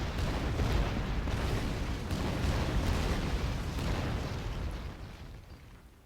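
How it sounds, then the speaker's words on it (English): Artillery barrage explosions in the real-time strategy game Rise of the Reds 1.9, as a dense rumbling roll of overlapping booms that stays loud and then fades toward the end. "he has one more barrage to annoy me and to kill my last Volga"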